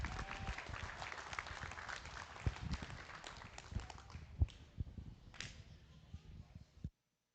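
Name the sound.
audience applause for young livestock show exhibitors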